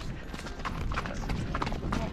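A ridden horse's hooves clip-clop in a steady rhythm over a noisy outdoor background, with a voice faintly present.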